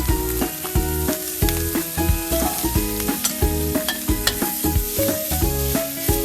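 Pork belly and pounded shrimp paste stir-fry in a hot pan with a loud, steady sizzle, and a utensil scrapes and tosses the food in a regular rhythm. No one speaks.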